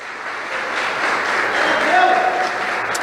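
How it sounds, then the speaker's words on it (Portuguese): A church congregation in Brazil breaks into applause during a sermon, a steady, moderately loud wash of clapping that swells slightly and holds. "Você pode dar uma salva de palmas e glorificar o nome de Jesus"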